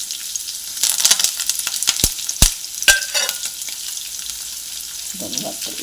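Onions and curry leaves frying in hot oil in a pan, a close sizzle with a few sharp knocks and clatters of a spoon against the pan, fading quieter toward the end, with no voices.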